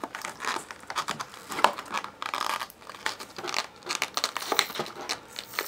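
Tape and plastic packaging being peeled and torn open on a Star Wars The Last Jedi Paige Tico 3.75-inch action figure, a close run of crinkling, crackling and tearing bursts with no talk.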